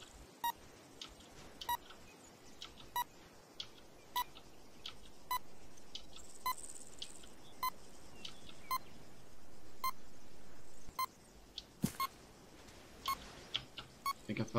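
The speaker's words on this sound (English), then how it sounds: "It's beeping because I'm close." A handheld mine detector gives off short, evenly spaced electronic beeps, roughly one a second, fairly loud over a quiet hiss during a mine clearance exercise, with a longer steady tone near the end.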